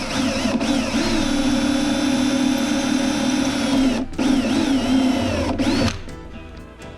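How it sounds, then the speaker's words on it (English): A power drill bores out staples on an RV mirror, running in long, loud, close whines with brief pauses before winding down near the end. "Now we'll get the last, drill them both out and put them both in."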